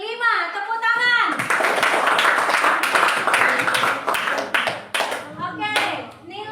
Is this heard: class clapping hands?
yes